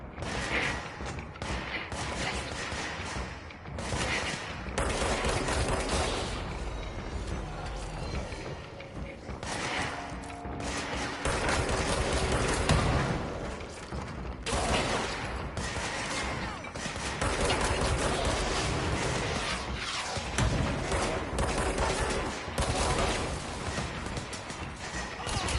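Enemy gunfire from the video game Control, dense rapid bursts and crashes that continue without pause at steady loudness, with a voice speaking over the action.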